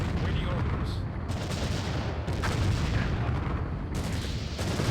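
Gunfire from units in the real-time strategy game Empire Earth: a dense, steady barrage of overlapping shots and bursts rolls on without a break, loud and continuous.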